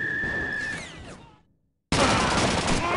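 Bursts of machine gun fire crackle in a World War II shooter game, first under a whistling tone and fading out. After a short silence a loud, dense volley of rapid gunfire comes in close and keeps going.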